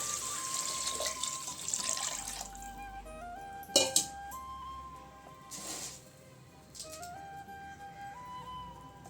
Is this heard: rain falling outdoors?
no